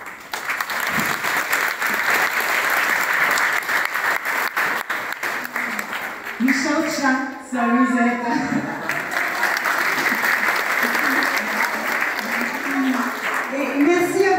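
An audience claps loudly and continuously for a theatre group after a play, a dense sustained round of applause with a few voices calling out over it.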